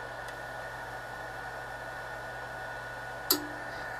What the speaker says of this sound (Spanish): Y entró la válvula.